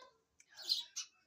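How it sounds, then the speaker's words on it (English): Baby birds in a birdhouse on a porch give a few faint, high chirps and squeaks in quick bursts, close by and otherwise quiet. "She's a pretty friendly bird."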